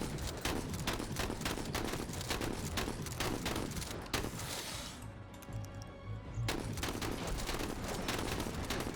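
Heavy gunfire in the Menace strategy game, a dense, loud barrage of rapid shots and impacts that briefly thins out before resuming at full intensity.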